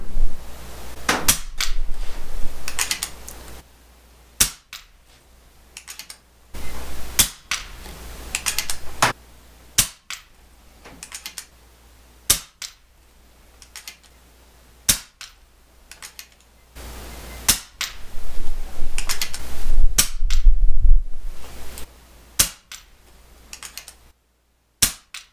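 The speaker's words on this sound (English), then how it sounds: "working with a PCP air rifle" A PCP air rifle fires a series of about a dozen sharp, close cracks at irregular intervals, each followed by short mechanical clicks and handling noises between shots.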